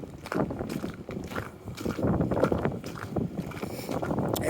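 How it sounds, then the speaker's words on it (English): Wind blows steadily outdoors, buffeting the microphone with gusty rumbling that swells and fades throughout. "quite windy down here right at the moment"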